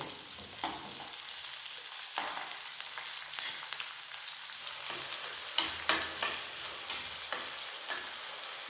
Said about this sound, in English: So let all this fry nicely, and then I'll add the mashed potato.